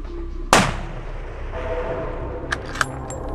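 A rifle shot fired at a bull elk on a late-season hunt: one sharp, loud report with a decaying outdoor echo, followed by two fainter, brief clicks.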